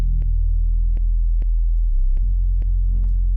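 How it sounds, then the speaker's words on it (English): A detuned Reese bass synth programmed in Logic Pro drones low and steady throughout, with a sharp percussive click-like hit repeating roughly every 0.6 seconds above it and a brief noisy swell near the end. "I also added this bass here, this Reese."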